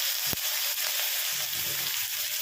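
Tomatoes drop into a hot frying pan and sizzle with a steady, close broadband hiss, opened by a sharp knock as they land.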